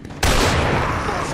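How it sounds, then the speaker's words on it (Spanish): A hand cannon fires in the Resident Evil 4 mod: a very loud, close gunshot that bursts in suddenly and rolls into a long, booming roar. "está en el suelo, así que yo lo acabo con la hand cannon."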